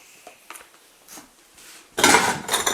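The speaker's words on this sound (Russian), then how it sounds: "Чуть не наступил на посуду." Dishes in an abandoned country manor house clatter loudly underfoot in two sharp bursts near the end, after a few faint knocks and scrapes.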